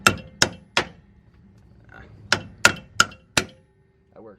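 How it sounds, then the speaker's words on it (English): A hammer taps strut assembly bolts into place during car suspension repair, giving sharp metallic knocks in two quick bursts of three and four evenly spaced strikes, loud and close, with brief quiet gaps between. "if you need to tap them with a hammer"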